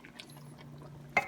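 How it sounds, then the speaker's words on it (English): Coconut cream poured into a pan for ginataang shrimp with malunggay, a soft liquid glug and trickle under low kitchen hum, ending with a small sharp clink. "And add more of coconut cream."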